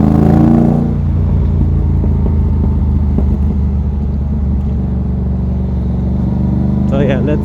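A Yamaha MT-07 motorcycle engine drones steadily while riding, a loud close low rumble with the revs easing off after the first second, then a constant cruise hum and a faint clatter near the end.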